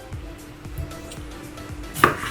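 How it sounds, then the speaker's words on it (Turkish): A knife taps steadily on a cutting board, dicing potatoes into cubes with four or five even chops, with a brief clink of a dish near the end. "Küp küp doğrayayım."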